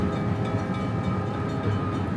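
A passenger train bound for Delhi, India, gives a steady, loud rolling rumble of wheels and carriages throughout, close and continuous with no voices.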